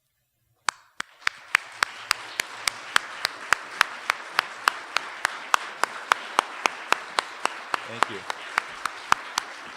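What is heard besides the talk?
audience applause for department staff at an awards ceremony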